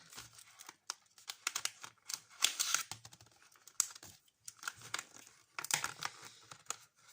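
Plastic packaging around a set of glitter markers is crinkled and torn open, a close series of crackling, rustling bursts broken by short pauses.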